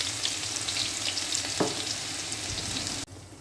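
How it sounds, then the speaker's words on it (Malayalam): Crushed ginger, green chili, fennel seeds and curry leaves sauté in a hot pan for a pork and plantain fry, giving a steady close sizzle with a brief clatter midway before the sound drops off near the end. "ഇഞ്ചി, പച്ചമുളക്, പെരുംജീരകം, കറിവേപ്പിൻ്റെ ഇല ഇട്ട് ക്രഷ് ചെയ്തിട്ട് ഒന്ന് വഴറ്റിയെടുക്കുന്നുണ്ട്"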